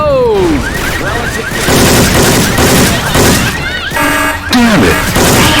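Rapid bursts of video-game gunfire with Syphon Filter weapon sounds in Left 4 Dead 2, loud, close and repeated, mixed with shouting voices and crashing effects.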